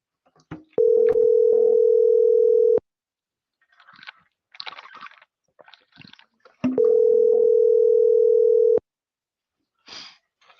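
Telephone call tone before voicemail, two steady beeps of about two seconds each with a long gap between them, loud and clean, plus a few faint handling noises and scattered clicks.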